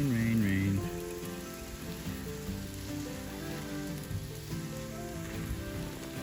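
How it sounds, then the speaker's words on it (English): Rain patters steadily on a surface at a farm, a continuous hiss with tonal sounds layered over it and a louder burst at the start. "Rain, rain, rain."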